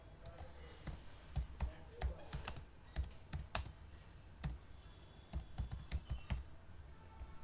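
Someone types code on a computer keyboard, irregular bursts of close key clicks with short pauses between runs, no voices.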